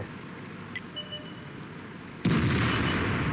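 A JgpzE 100 tank destroyer in World of Tanks fires its gun once, a sudden loud blast that holds as a heavy rumbling roar after a stretch of engine and battle ambience.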